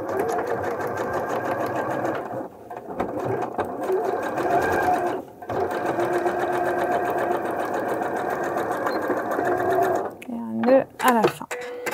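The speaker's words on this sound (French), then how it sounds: "à ce niveau-là, nous allons effectuer la couture avec un nœud au départ" Sewing machine stitching a trouser zip fly, a steady close mechanical whirr in three runs separated by short pauses, ending with a few brief clicks and handling sounds; someone speaks over it.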